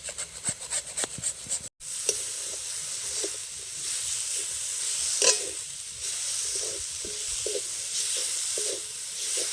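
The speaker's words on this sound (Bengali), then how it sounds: "এখন নারকেলের পুরটা কড়াইয়ে দিয়ে দেব এখানে খেজুরের গুড় নিয়েছি একটু গ্রেট করে দিয়ে দিচ্ছি" Coconut filling with grated date palm jaggery cooking in a wok, a steady close sizzle with scraping and stirring strokes after a brief clatter at the start.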